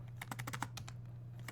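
Keys on a computer keyboard are tapped in a quick, uneven run of light clicks, with a pause and then one more keystroke near the end, all quiet over a steady low hum while typing into a browser address bar.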